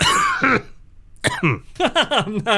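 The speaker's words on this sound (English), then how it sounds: "Cough, cough, cough." Coughing and throat clearing in short bursts, close and fairly loud, with a silent pause partway through.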